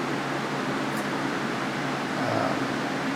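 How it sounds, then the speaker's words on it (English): Steady, even whir of a fan and a dehumidifier running together, a constant broadband hum with no talking. "The background noise you hear is the fan, and got a dehumidifier running"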